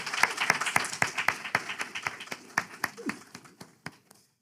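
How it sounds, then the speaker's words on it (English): A round of applause for a church chorus at a Black History Month event: sparse, distinct hand claps from a small crowd, fairly close, thinning out toward the end. "Could we get another round of applause for the chorus?"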